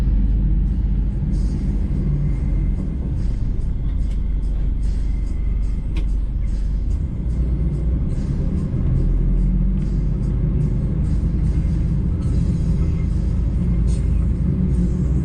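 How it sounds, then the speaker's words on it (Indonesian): Garuda Mas luxury bus pulling out of Terminal Gendingan in the evening, a steady low engine rumble heard from inside the cabin, continuous and moderately loud throughout with faint background voices. "Pukul 18:24 bis diberangkatkan kembali dari Terminal Gendingan."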